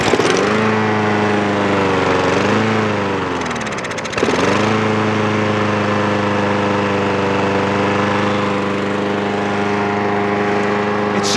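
A lawnmower engine in very cold weather runs with a loud, steady, close drone, dips and sputters briefly, then picks back up and holds an even idle.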